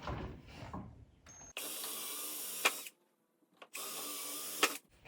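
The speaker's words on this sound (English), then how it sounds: "drill with my larger drill bit in these 2" Power drill with a larger bit boring holes for leather cabinet or drawer loop handles, two separate steady whirring bursts of about a second each with a sharp bite partway through, separated by quiet, after softer handling noises.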